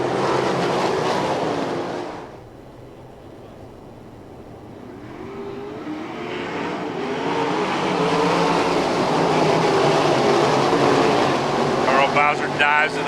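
Dirt track race cars roar around Lernerville Speedway in a loud, continuous wash of engine noise that dips briefly, then swells again as the pack drives past.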